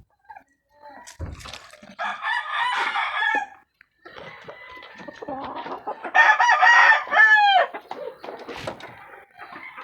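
Chickens cluck and squawk close by in irregular bursts, with a rising crow-like call among them over a quiet background.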